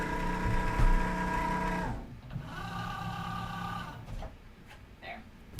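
A Cricut Joy Xtra cutting machine pulls in a loaded mat, a close, steady motorized whir with brief mechanical clicks, and a second shorter whir after a pause, with no talking.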